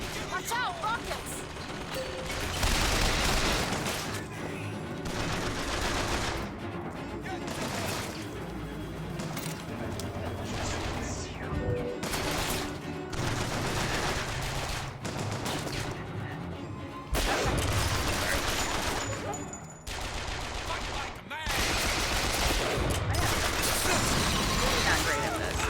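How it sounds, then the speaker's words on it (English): Rocket explosions and rapid gunfire from a BioShock Infinite firefight crash loudly and nearly nonstop, with heavy blasts layered over a dense, chaotic battle din. "Watch out, rockets!"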